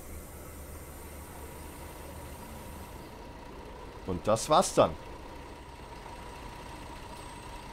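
A bus engine in the Fernbus Simulator game hums in a low, steady drone throughout. A short burst of clattering mechanical sounds sits in the middle, and someone speaks briefly over it.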